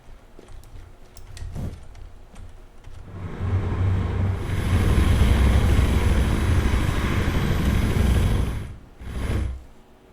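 A helicopter's rotor and engine noise swells from quiet to a loud, sustained thrum that holds for several seconds and then fades, with a short surge near the end. No voices are heard.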